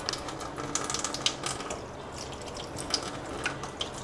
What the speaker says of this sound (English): Now I'm gonna rinse it as I am cleaning it again.